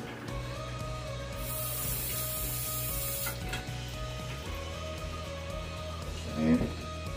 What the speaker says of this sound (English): I'm gonna rinse this off real quick.